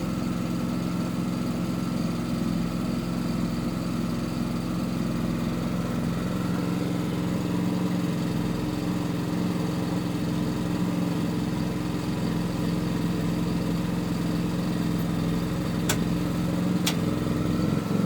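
A PK7500i portable generator runs steadily at a home with an automatic transfer switch, giving a constant, close engine drone with a harmonic hum and two brief clicks near the end.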